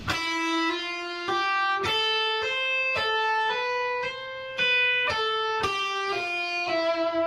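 A slow guitar lick of single plucked notes, each ringing out before the next, cycling through a short repeating phrase, played alone and close.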